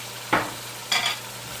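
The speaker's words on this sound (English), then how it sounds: "And I'm going to stir it in" Diced tomato being stirred into onions frying in a pan for a cabbage stew, two short scraping strokes over a soft, steady sizzle.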